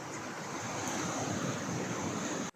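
Surf washing onto Duli Beach in El Nido, Palawan, a steady broadband roar of waves with wind buffeting the microphone, continuous and fairly loud, cutting out abruptly at the very end.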